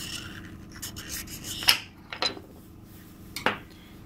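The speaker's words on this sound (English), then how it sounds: "Little flat screwdriver and a rag is perfect for this job." A small flat screwdriver scrapes grime off Suzuki KingQuad engine parts during valve clearance work, with soft rubbing strokes and a few sharper metallic scrapes and clinks, close up and quiet with no talking.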